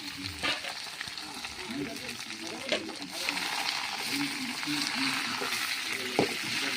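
Chira leaf thoran being stir-fried in a pan: a steady sizzle with scraping stirs throughout, heard under someone talking.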